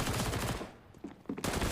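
Rapid bursts of automatic gunfire during a professional Counter-Strike match, loud and dense, easing briefly in the middle before a fresh volley of shots returns.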